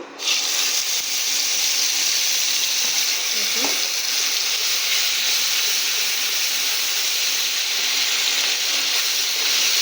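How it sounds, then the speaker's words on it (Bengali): Cumin seeds and a ground spice paste sizzle steadily in hot oil in a pan during Bengali cooking of a poppy-seed okra fritter dish, a loud, continuous bright hiss with a brief stirring scrape partway through, no voices. "এবারে এতে ফোড়নে দিয়ে নেব একটু জিরে, তার সাথে যে মশলাটা পেস্ট করে রেখেছিলাম সেটা দিয়ে নেব"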